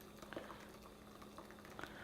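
Boiling water is poured into a gummy worm mixture, a soft, faint continuous bubbling liquid sound with light drips, close and steady throughout.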